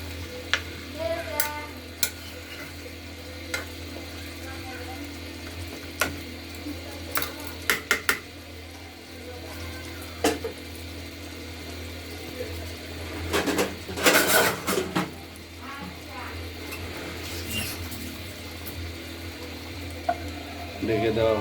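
Meat and spices sizzle steadily in a covered pan, a soft continuous frying hiss broken by occasional clinks and scrapes of a utensil against the pan and lid.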